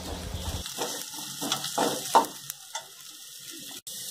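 Carrots sautéing in a pan for a spring roll filling, heard as soft, uneven frying crackle with a few scraping strokes, quiet and close, and no talking.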